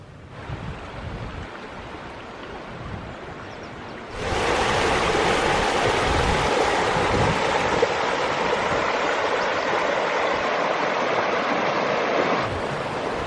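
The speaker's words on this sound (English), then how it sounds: "I do enjoy the gurgle of a stream or river." Gurgling stream of the Valency River at Boscastle in Cornwall, a steady broadband rush of flowing water that grows markedly louder and closer partway through and holds there, with no voices.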